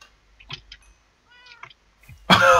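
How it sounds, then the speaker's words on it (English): Cartoonish cat meows play as a sound effect in a video game hide-and-seek minigame: a few short, scattered mewing calls, then a sudden loud burst of noise at the end. "I'm meowing my life away in these 3 minutes."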